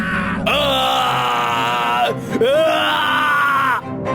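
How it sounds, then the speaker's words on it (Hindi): A loud, drawn-out scream with a wavering pitch, broken by a brief gap before a second long shriek, near and intense. "उनके पेट से तभी जोरों की चीखने की आवाज आई"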